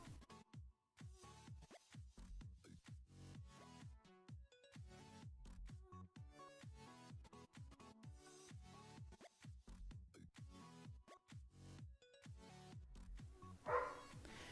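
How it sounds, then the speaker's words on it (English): Dogs bark in a long, rapid series, the sound faint and distant throughout, with barks following each other almost without pause. "Sorry if you can hear my dogs barking."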